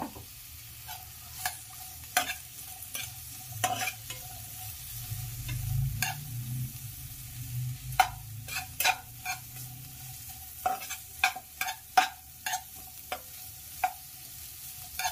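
Carrot pieces, beans and green chillies fry in a pan, a soft sizzle under frequent sharp spatula taps and scrapes against the metal, close by and fairly quiet, with no talking.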